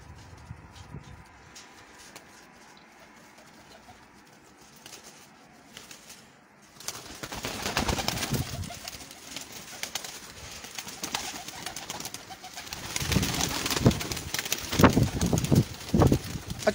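Prize pigeons kept by a fancier coo softly at first, then a burst of wing flapping and fluttering rises and stays busy, with repeated beats of wings close by.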